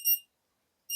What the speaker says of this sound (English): All right, so my timer is going off.